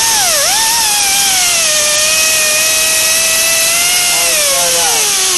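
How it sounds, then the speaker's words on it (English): An angle die grinder fitted with a polishing wheel working on a race car wheel rim, producing a loud, continuous high-pitched whine whose pitch dips at the start and drifts slowly, heard alone and close. "we're going to take our angle die grinder, we're going to take off the brown wheel and put this polishing wheel on"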